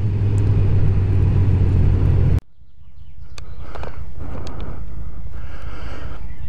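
A 2018 Honda CB1000R motorcycle on a test ride, its engine rumbling loudly and steadily before cutting off abruptly, then a quieter, steady engine drone with light wind noise follows.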